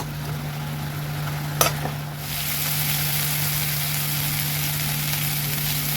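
Spice masala for a vegetarian ripe-cucumber curry fries over a raised flame, a steady close sizzle hissing throughout, with a brief clatter of stirring near the start.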